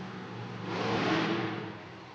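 The Velociraptor Monster Jam truck climbs a ramp at an arena event, its engine roaring in a broad, swelling rev that peaks midway and then eases off, heard from a distance without any talking.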